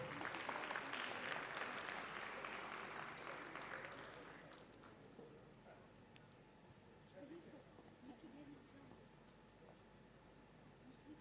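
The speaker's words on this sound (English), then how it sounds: "Can we welcome sir with a huge round of applause?" A convocation ceremony audience gives the chief guest a big round of applause, loud at first and tapering off after about four seconds into quiet room tone with faint murmurs.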